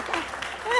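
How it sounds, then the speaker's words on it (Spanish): Studio audience on a Spanish hidden-camera TV show claps in a short burst, with voices and cheering mixed in. "estamos aplaudiendo constantemente"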